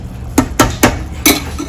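A spoon stirs boiling rice in a pot on the stove while shrimp a la diabla is cooked, giving four sharp metallic clinks against the pot, spaced irregularly and close by, with no talk.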